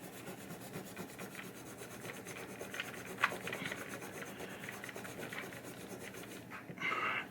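A green scrubby pad rubs a metal slingshot part from a 1986 Gottlieb Hollywood Heat pinball machine, a close, quiet back-and-forth scrubbing in rapid regular strokes with one sharp knock midway.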